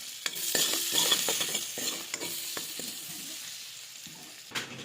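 Potatoes and kohlrabi stirred as they fry in a pan with onion, turmeric and salt, giving a steady close sizzle broken by repeated scraping stirs of a utensil, with no talking.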